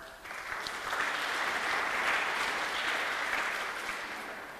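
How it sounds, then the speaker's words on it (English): Warm applause from a conference audience at an open data event, a steady broadband patter of many hands that swells, holds evenly, then tapers slightly near the end, moderately distant with no talking over it. "a warm applause"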